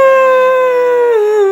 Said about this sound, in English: coyotes sing their lonesome song